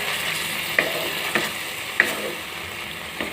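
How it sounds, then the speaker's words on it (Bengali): Tomato and a ginger, garlic and dried-chili paste sizzle in a pan while a spoon stirs, with several distinct scraping knocks over a constant frying hiss. "এবারে আমি এর মধ্যে দিয়ে দেব আদা রসুন শুকনো লঙ্কার পেস্ট। ভালো করে নেড়ে নেব।"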